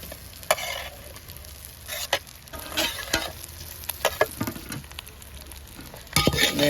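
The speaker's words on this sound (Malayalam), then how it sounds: "വറുത്ത് വെച്ച മീനും കൂടി ഇതിൻ്റെ അകത്ത് ഇട്ട് കൊടുത്തേക്കാം" Fried fish pieces stirred into a spicy fish pickle masala in a pan, with a steady sizzle broken by repeated scraping stirs and the clatter of a spoon against the pot, close up and with no talking.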